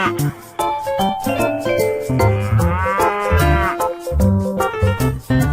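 A buffalo lets out a long, drawn-out bellowing low that swells in the middle, heard close over continuous background music.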